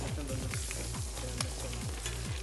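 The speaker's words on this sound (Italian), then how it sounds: "Stiamo continuando a friggere. Abbiamo quasi finito con gli spiedini." Skewers frying in a pan give a steady sizzle through the clip, with repeated low thumps and rattles of stirring and cookware underneath.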